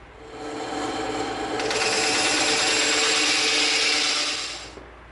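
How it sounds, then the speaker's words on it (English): A bandsaw cuts through EVA foam in one continuous rasping, buzzing pass that grows louder as the blade bites in, holds steady for several seconds, then fades as the cut ends. "Now we're going to take this over to the bandsaw and we're going to cut it out."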